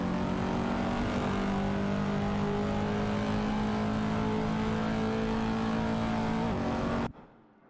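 Race cars run tightly packed around a track in a racing video game, their engines a dense, steady roar that holds unbroken before cutting off abruptly near the end.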